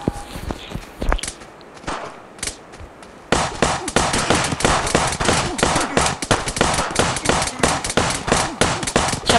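Rapid gunfire in a shooter video game, sparse shots at first and then a dense run of sharp repeated bursts, loud and close throughout.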